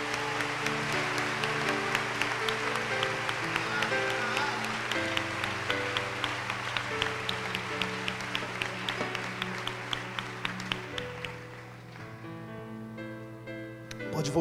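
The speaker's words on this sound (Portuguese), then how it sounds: "eu quero que vocês dêem uma salva de palmas a Jesus." A church congregation applauds during a Brazilian Pentecostal service, with sustained rhythmic clapping over a steady organ or keyboard drone for about eleven seconds before it thins and the music continues alone.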